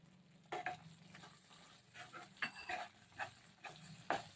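Spoon stirring milk powder into a cooking capsicum halwa in a pan, with several separate soft scraping strokes spread over a few seconds against a faint low hum.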